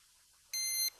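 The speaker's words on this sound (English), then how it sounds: "When it beeps again, it will be done." A single steady electronic beep from a HolyStone HS165 FPV drone finishing calibration, high and tonal, sounding for about a third of a second over faint background hiss.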